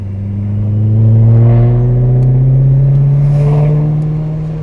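A supercharged S65 V8 car engine revving, heard from inside the car with the windows down, a loud deep roar rising and falling steadily over several seconds.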